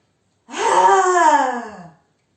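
A long, voiced, drawn-out breath of about one and a half seconds, taken during a self-shiatsu breathing exercise, rising and falling smoothly and heard alone at close range.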